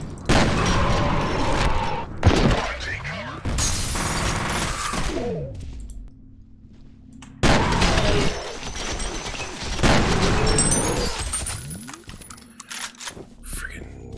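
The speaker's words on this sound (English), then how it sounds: "Freaking grenade to the face." Grenade blast and gunfire from the shooter game F.E.A.R., loud bursts and a heavy boom broken up by pauses, with voices talking over parts of the action.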